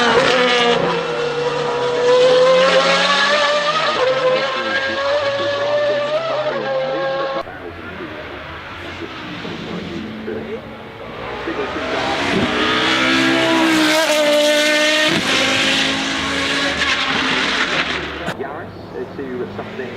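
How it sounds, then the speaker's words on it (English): A rear-wheel-drive V12 supercar engine roars loudly, holding a high rev, dipping, then surging again with rising pitch, up close and continuous. "From Finalii rear-wheel drive V12 engine."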